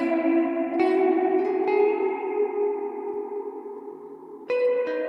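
Notes played through an Empress ZOIA pedal with reverb and a one-semitone pitch shift ring out in long, shimmering tails, with fresh attacks at intervals swelling over the decay; no voices.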